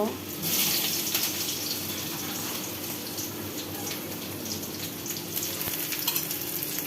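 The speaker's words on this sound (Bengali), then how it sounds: "এগুলো আদা রসুন পেঁয়াজটা একটু ভেজে নিব" Onion, ginger and garlic frying in a pan give a steady, close sizzle with a watery hiss that holds evenly throughout, with no talking over it.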